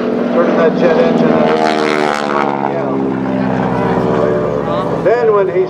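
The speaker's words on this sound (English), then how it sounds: "Then when he starts the afterburner, there's so much air moving on through there" At the 2012 MCAS Cherry Point airshow, a jet truck's jet engine runs with its afterburner, giving a heavy, sustained roar with whining tones and a shifting pitch as a commentator speaks over the noise.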